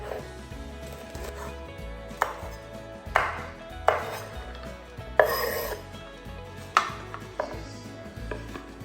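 A knife chops washed green beans on a board in irregular sharp thuds, close and clear over faint background kitchen noise.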